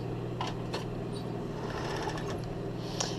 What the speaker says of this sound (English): we're going to hem this all under with the cover stitch machine